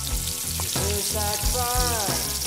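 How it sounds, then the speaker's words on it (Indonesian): Chicken for ayam goreng kretek sizzles and crackles steadily as it deep-fries in hot oil, a continuous close frying hiss with faint whistling tones. "Nama ayam goreng kretek ini diambil karena pas ayamnya digoreng bunyi kretek-kretek gitu loh"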